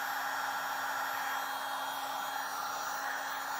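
A heat gun blows a steady, even airy roar over beeswax waterproofer being melted into shoes, holding constant for the whole stretch with no talk.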